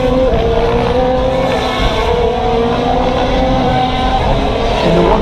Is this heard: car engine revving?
yes